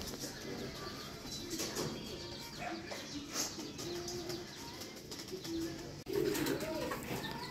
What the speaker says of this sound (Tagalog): bumaba na rin yung mga warriors natin o yung mga kalapatids natin